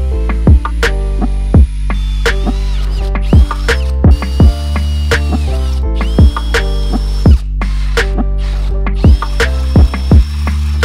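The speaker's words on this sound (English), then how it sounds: "then I'll start drilling some holes" Repeated bursts of a power drill drilling holes in a BMW E30, spinning up and winding down, with ratcheting clicks between them, close and loud against a steady low engine-like hum.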